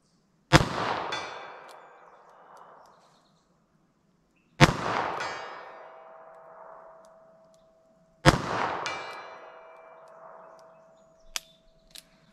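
Three sharp revolver shots from .38 Short Colt or .32 S&W Long rounds ring out outdoors about four seconds apart, each a loud crack followed by a long ringing decay, with a faint click near the end.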